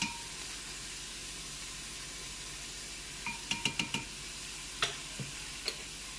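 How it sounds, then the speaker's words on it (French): A piano whisk clinks against a pot while stirring beef broth into water, a few quick light taps and scrapes over a steady background hiss. "À l'aide du fouet piano, je mélange le tout."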